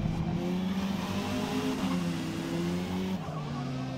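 Race cars in Forza Motorsport, an S2000 and a Volvo among them, skid and squeal their tires through a turn. Loud, steady engine drone with sustained tire squeal runs the whole time, and no one speaks.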